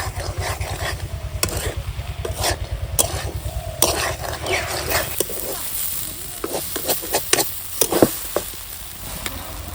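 A bread mixture with added nuts is stirred in a hot pan, giving rhythmic scraping and sizzling with repeated spoon knocks, close and moderately loud.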